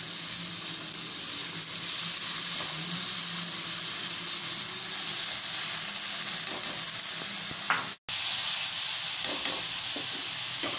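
About 1.5 pav of minced keema fries in a pan with browned garlic and ginger, giving a loud, steady sizzle and hiss throughout, with a brief drop in the middle and faint stirring scrapes.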